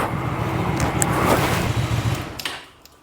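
Hyosung GV250 motorcycle engine idling steadily after a kickstart, a close low rumble that drops away near the end as it shuts off.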